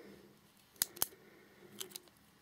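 A ballpoint pen from a cosmetics-shop purchase clicks sharply twice, then two softer clicks follow about a second later, close and otherwise quiet.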